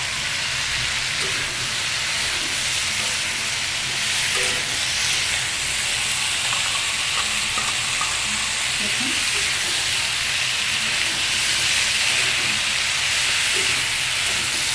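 A vegetarian curry of yardlong beans and potatoes in oil sizzles after white sesame paste is stirred into the pan, giving a loud, continuous hiss with small crackles and scrapes underneath.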